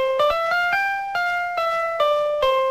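A short electronic school bell sounds a quick sequence of bright chiming tones, each struck note ringing briefly into the next, loud and close with no talking.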